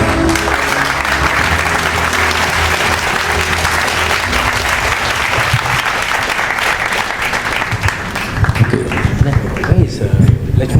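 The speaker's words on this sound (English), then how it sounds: "Big round of applause, everyone." Loud, sustained audience applause fills a hall at an awards dinner, dense continuous clapping with some crowd noise and louder claps near the end.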